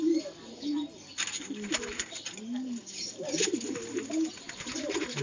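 Pigeons coo repeatedly outdoors in soft, rolling low calls, several birds overlapping with faint chirps and background noise, fairly close and moderately quiet.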